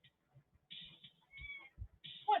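A house cat meows several times in short, close, fairly quiet calls with gaps between them, ending in a slightly louder cry.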